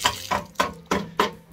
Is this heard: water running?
yes